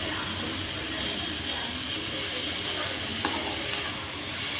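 Cauliflower pieces sautéing with onion and tomato in a pan for poriyal make a steady, close sizzle and stir throughout, with one brief scrape partway through and no voices.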